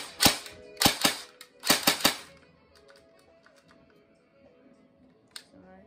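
M4 Golden Eagle airsoft rifle fired in semi-auto, about seven sharp, loud, close snapping shots in two quick clusters, followed by faint handling noise and quiet.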